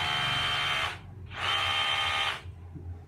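A Dewalt cordless hammer drill whirs at high speed in two bursts of about a second each, separated by a brief pause, heard up close and loud.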